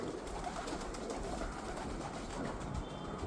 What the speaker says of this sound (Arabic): شباب ذن أفراخ بغداديات